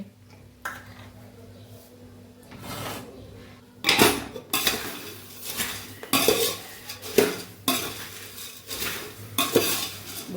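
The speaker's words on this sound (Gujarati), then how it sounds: "ફરીથી સરસ આપણે મિક્સ કરી દઈશું વઘાર સાથે" Dry puffed rice and roasted chickpeas rattle and scrape in a metal pan as a spoon stirs them with tempering, in a run of bursts with brief pauses, close by.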